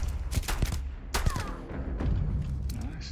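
Rapid bursts of gunfire in a video game shooter come as clustered sharp cracks and thuds, several shots close together over muffled background noise.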